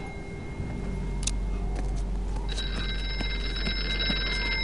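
A steady electronic telephone ringing tone in a video game scene, held continuously as a high sustained ring over a low background hum, with a few faint clicks.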